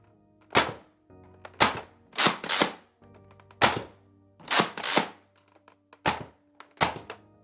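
Nerf Twin Shock blaster, a mega shotgun-style foam dart blaster, firing repeatedly: about nine sharp, loud thunking pops in quick, uneven bursts, some doubled, with faint mechanical clicks between shots and no talking.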